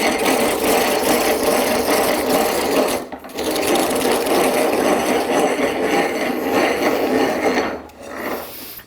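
Stanley 77 dowel maker cutting a 5/8 inch dowel from Filipino mahogany, a continuous rasping, whirring cut close by with one short pause and a tapering finish.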